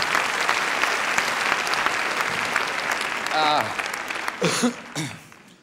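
An audience applauds a Swiss comedian's tennis sketch, with loud, dense clapping that thins and fades toward the end, broken by a short voiced exclamation and scattered final claps.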